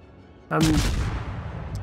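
A warship's main guns firing in the World of Warships naval game, the Polish destroyer Blyskawica, one sudden loud boom that rolls out into a long decaying rumble after a quiet lead-in.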